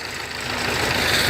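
A neglected old tractor idles nearby with a rough, steady broadband rumble and clatter that swells slightly over the short stretch, with no voices over it.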